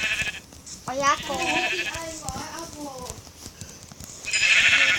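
Sheep bleating in Minecraft, a series of wavering bleats close by while a person talks over the game.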